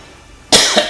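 Two or three short, harsh coughs close to the mic after a moment of near silence.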